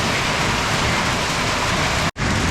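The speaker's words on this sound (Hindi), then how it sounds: "तेज़ बारिश के साथ ओले भी पड़ रहे हैं और आपको आवाज़ आ रही होगी" Loud, dense rain mixed with hail pours steadily and close by in the hills of Khyber Pakhtunkhwa, with a hissing roar that cuts off for an instant near the end.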